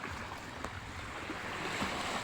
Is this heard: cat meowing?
no